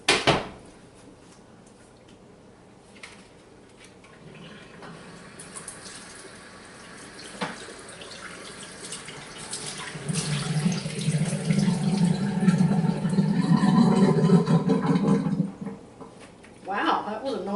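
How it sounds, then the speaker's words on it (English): Water runs into a kitchen sink as cubed potatoes are drained, a loud rushing pour building midway and holding for several seconds before stopping, with some clatter earlier. "that was a noisy draining of the sink"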